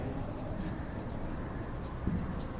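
Pen writing on paper during a math lesson, faint soft scratching strokes up close under a steady background hum.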